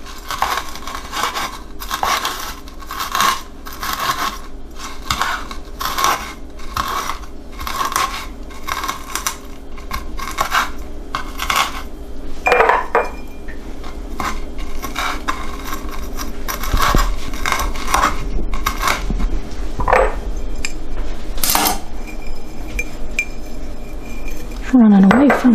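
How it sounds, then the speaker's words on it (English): Usnea lichen is chopped with a knife in a quick, regular run of sharp taps that later become sparser and uneven, with a few louder clacks near the end. "So we'll just chop it."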